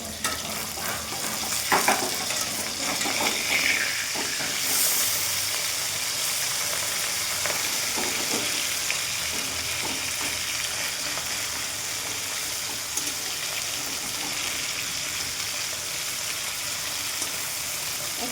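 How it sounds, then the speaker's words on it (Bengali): Papda fish pieces frying in a pan after being turned over, a continuous close sizzle with bubbling crackle and brief scraping touches early on, no voices. "মাছগুলি ভাজা হয়ে গেছে, আবার উল্টিয়ে দিচ্ছি।"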